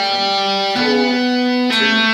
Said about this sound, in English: the trill is going to sound like this